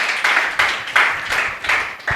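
A congregation at a worship service claps in praise, a steady run of loud, fairly even handclaps close by with short gaps between them.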